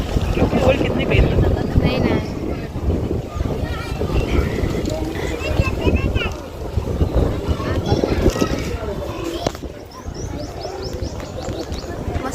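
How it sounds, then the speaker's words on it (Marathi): Wind gusts along a riverbank in Nashik where boats stand moored, buffeting the microphone in a continuous rumbling roar while people talk over it throughout. "वारं लागतंय वारं कसं लागते"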